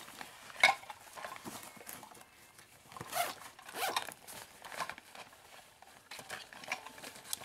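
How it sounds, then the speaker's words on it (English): A small dog-treat pouch is unzipped indoors among birthday toys, giving quiet, scratchy zipper bursts with a sharp rasp near the start and more around the middle, soft and close with no talking. "First time opening that little pouch."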